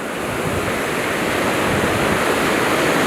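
Sea waves at Hwajinpo beach on the East Sea in Goseong roll in as a steady, loud wash of surf with a faint touch of wind, no voices present.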